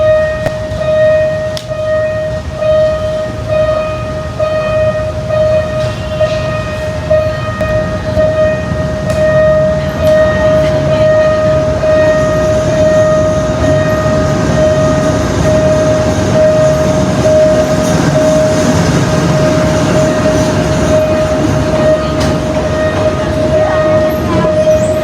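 A train arrives at a station with a loud, continuous rumble of wheels and carriages and a sustained high whine from the train, heard close for the whole stretch.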